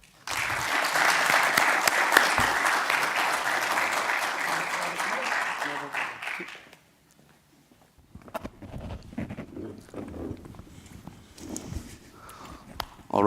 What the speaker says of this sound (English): please give a round of applause to Nicolas